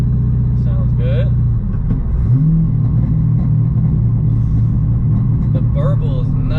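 A 6-speed manual-swapped Dodge Hellcat Charger's engine and exhaust give a deep, loud, continuous rumbling burble that shifts in pitch midway, heard close up from inside the car.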